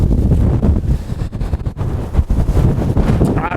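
Gusty wind buffeting the microphone on a golf course during stormy weather, loud rumbling gusts that swell and dip throughout.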